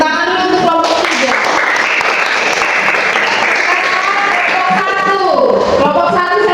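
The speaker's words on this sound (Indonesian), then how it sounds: "Tepuk tangan dulu untuk kelompok 3." A classroom of students applauds a group after their presentation on environmental cleanliness, with dense, steady clapping filling the room throughout and voices mixed in near the start and end.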